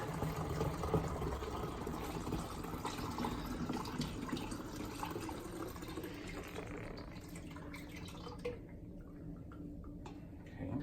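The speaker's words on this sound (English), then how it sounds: "we're gonna rack this right back into the jug" Faint trickle of homemade wine, made in an Instant Pot, flowing steadily back into a jug, with soft liquid splashing that tapers off near the end; no talking.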